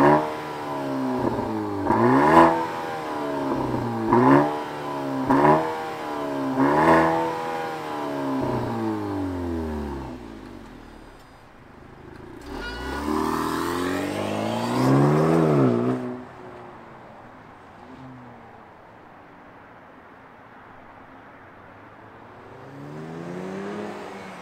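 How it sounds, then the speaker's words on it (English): A 2023 Maserati Grecale Modena's four-cylinder turbo engine fires up and revs in a series of sharp, rising blips, then gives a longer surge before settling to a steady idle, heard close and loud with no talking. "let's fire it up and hear what it sounds like"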